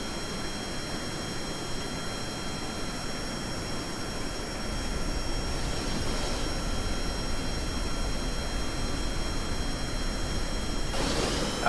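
Fighter jet engine in a flight combat video game, a steady broadband roar with a thin whine that swells in loudness partway through, continuous and with no one talking.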